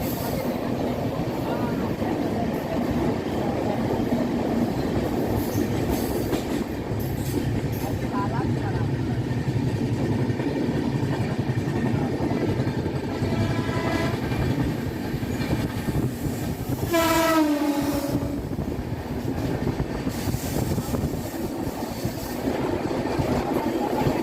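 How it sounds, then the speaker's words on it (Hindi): Udyan Express train 11301 rolling through a series of tunnels toward Khandala on the Mumbai to Bengaluru line, with a continuous loud rumble of wheels and carriages, a brief rising wheel squeal midway, and steady clatter throughout. "ये देखिए खूबसूरत टनलों को पार करते हुए ट्रेन खंडाला की ओर"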